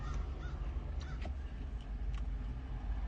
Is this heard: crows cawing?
yes